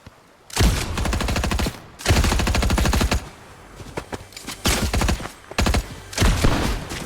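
Rapid automatic gunfire from a Fortnite match, in several loud close bursts of fast repeated shots separated by brief pauses.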